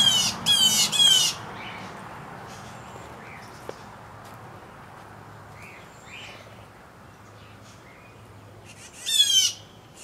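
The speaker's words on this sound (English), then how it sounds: "All the birds are furious. There's cardinals in there and blue jays, and they're pissed." Cardinals and blue jays in a pine tree give loud, harsh squawks in two bursts, one at the start and another near the end, separated by a quiet outdoor stretch with faint chirps.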